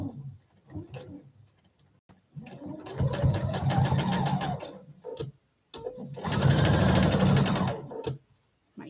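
A sewing machine stitches a quilt block seam slowly, running in two long mechanical bursts of rapid ticking with brief stops and pauses between, close and steady.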